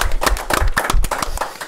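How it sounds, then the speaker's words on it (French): Audience clapping for Greg Coupet at an Olympique Lyonnais event, a short burst of close, uneven hand claps with a few sharper individual claps. "On peut applaudir Greg"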